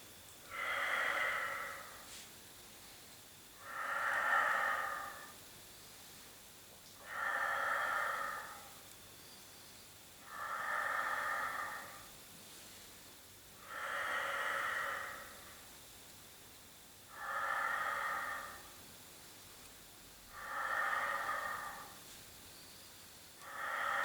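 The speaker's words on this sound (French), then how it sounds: "on expire et on inspire, on revient" Slow, steady breaths out and in during a Pilates exercise, eight even breath cycles heard close and clear, each a soft airy rush with quiet pauses between.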